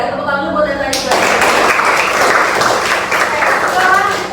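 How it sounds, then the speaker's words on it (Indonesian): Students clapping in a classroom, a burst of close, dense applause that starts abruptly after a teacher's voice and carries on steadily until the end. "tepuk tangan dulu buat yang tadi."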